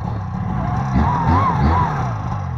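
A Buran snowmobile engine runs nearby and rises slightly as the machine pulls away through deep snow in the taiga, a steady rough drone throughout the short stretch.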